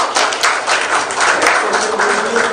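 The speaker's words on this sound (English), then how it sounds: "So give yourself a big cheer for that." An audience at a live tech meetup claps steadily, a dense, even patter of many hands with a few sharper taps; no cheering voices stand out.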